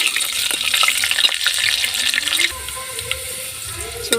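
Chopped onions and curry leaves fry in hot oil in a pan, giving a continuous bright sizzle with crackling pops and occasional stirring scrapes, steady and close, no voices.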